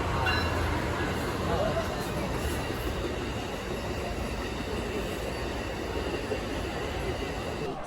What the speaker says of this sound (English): we just saw the Amtrak train go by